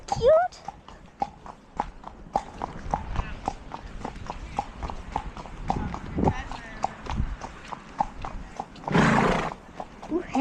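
A horse's hooves clip-clop in a steady rhythm while being ridden out on a trail, with a loud whinny near the end and people chatting throughout.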